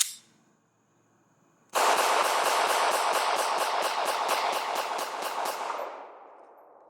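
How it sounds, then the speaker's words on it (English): Rapid shots from a Glock 17 pistol empty a full magazine in a fast, even string of about fifteen loud, close cracks, followed by a brief fading echo. "And one more magazine from a Glock 17."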